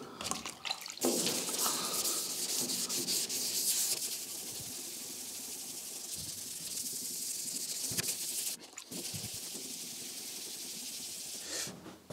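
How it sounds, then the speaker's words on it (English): Wet sanding of car paint with sandpaper and water before a final wine red coat: soft, hissy rubbing strokes with watery scrape, broken by a few brief pauses and clicks, fairly quiet and close. "So wet sanding, it's nothing more than some sanding paper and water."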